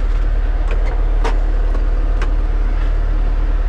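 A car engine hums steadily and loudly from inside as the vehicle pulls away, a deep constant drone with a few faint clicks and knocks over it.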